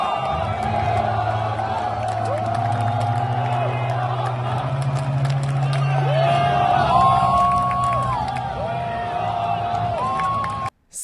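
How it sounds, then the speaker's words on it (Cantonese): A huge football crowd of about 42,000 fans at Kai Tak stadium in Hong Kong keeps up a dense, sustained roar with chanting swells throughout, cutting off abruptly at the end. "令到在場嘅球迷都更加團結去打氣啊"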